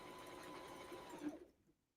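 A serger sewing machine runs at a steady fast whir while stitching Battenburg lace tape, close and clear, then cuts off abruptly near the end, leaving near silence.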